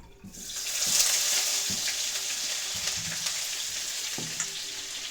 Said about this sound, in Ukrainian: це в мене масло домашнє, кидаю на пательню